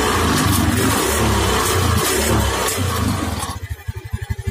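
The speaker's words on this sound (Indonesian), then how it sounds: "untuk stasioner masih normal, tapi ketika digas" Honda motorcycle engine revving hard under throttle with a roaring, strained tone, then dropping back to a rough, pulsing idle near the end; close and loud with no talking.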